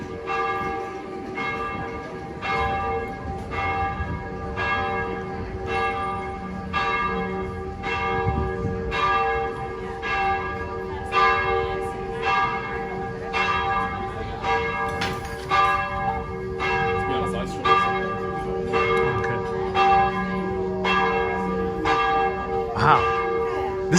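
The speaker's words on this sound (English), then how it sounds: "This is Santa Maria della Scala. That's the one ringing the bells." Church bells ring from Santa Maria della Scala in Trastevere, Rome, with loud, resonant strokes at a steady, regular rhythm that carry on throughout, heard nearby from the street.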